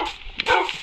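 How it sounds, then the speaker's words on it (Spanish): A dog barking in Minecraft, a short yip or bark near the middle of a brief, otherwise quiet stretch. "Ese es perro mío"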